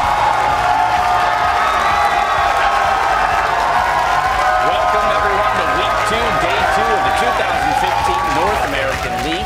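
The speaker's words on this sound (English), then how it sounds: "The crowds are going wild here in Los Angeles." A crowd cheering and clapping at an esports match in Los Angeles, a loud, continuous roar of voices with whoops and applause, and a commentator's voice running over it.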